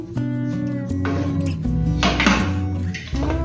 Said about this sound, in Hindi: अब मैं कुकर का ढक्कन बंद करूंगी।